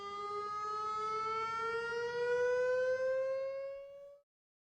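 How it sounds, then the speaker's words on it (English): Community alert civil defense siren in Torrance during a monthly test, one steady rising wail held loud and continuous for about four seconds before cutting off abruptly. "A monthly community alert siren test will take place tomorrow."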